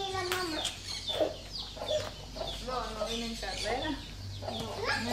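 A hen clucks repeatedly in short irregular bursts near the listener, with other chicken calls mixed in and low background noise in a farmyard.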